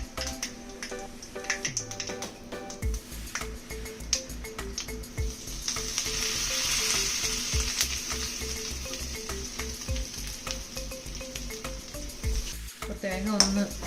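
Grated coconut with cumin, chilli powder and turmeric fries in a hot pan, giving a steady close sizzle with rapid, regular stirring and scraping of a spatula throughout, and a louder clatter near the end.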